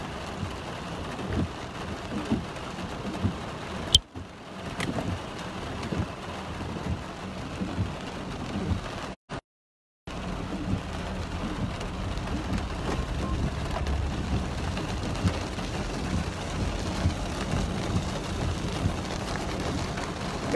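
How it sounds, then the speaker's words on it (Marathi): Heavy rain pours steadily over Mumbai, a dense continuous hiss with faint low rumbles, broken briefly by two short dropouts. "पण इकडे पाऊस जरा वेगळ्या स्टाईलने आज पडतोय"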